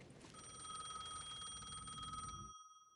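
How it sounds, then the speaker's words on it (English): A payphone rings in the video game Alan Wake 2, a bright trilling electronic bell sounding close and steady for about two seconds before cutting off abruptly, with no voices over it. "The payphone was ringing again."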